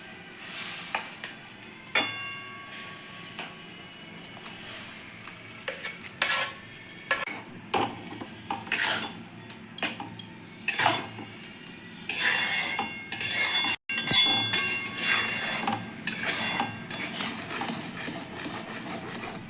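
Blended milk cream cooks in a wok over a gas flame to make ghee, with scraping stirs and clinks of a utensil against the pan and a soft sizzle, in irregular bursts.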